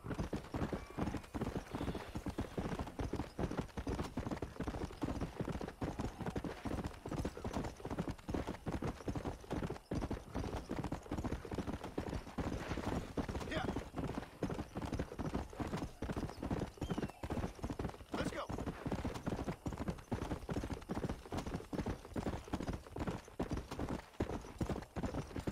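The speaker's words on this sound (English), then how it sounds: "O cavalo é bonitão mesmo, ô Lara, mas ele fadiga muito fácil." Horse hooves clip-clop steadily and continuously in the Western video game Red Dead Redemption, with a brisk, even rhythm at moderate volume. Faint background sounds run underneath.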